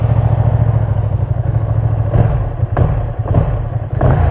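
A Ducati Streetfighter V2 twin-cylinder motorcycle engine runs loud and close, with a steady idle followed by several sharp throttle blips and revs.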